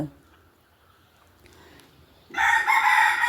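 After a quiet start with faint background noise, a rooster's crow bursts in loudly near the end, with hens nearby.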